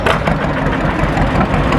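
A rebuilt John Deere G tractor with chrome intake and exhaust stacks chugs past at a festival, its loud, close engine thumping with a steady low rumble throughout.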